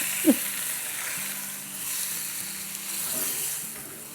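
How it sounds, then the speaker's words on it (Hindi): Chicken fries in garam masala with a steady, close sizzle, broken early by one brief clink of a utensil against the pan, and no talking. "तो अब ये देखिए गरम मसाले में इसको फ्राई करेंगे"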